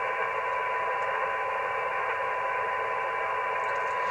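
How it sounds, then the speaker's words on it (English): Two ham radio stations transmitting JT9 digital mode, received after sunset as steady multi-tone signals over continuous hiss and static from a receiver, filling the band evenly for the whole stretch with no voices. "Oh, there's some JT9. I hear 2 stations."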